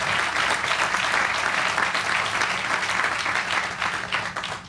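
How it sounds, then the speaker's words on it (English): An audience at a Louisville Urban League and Norton Healthcare press conference gives another round of applause, a full, dense burst of clapping, loud and steady before tapering slightly at the end. "How about another round of applause for work happening over there"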